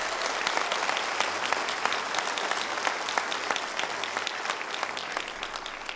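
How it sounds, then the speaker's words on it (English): A crowd of students at a school event breaks into steady, continuous applause, dense clapping filling the space at an even loudness without a break throughout. "So can you all give yourselves a big round of applause?"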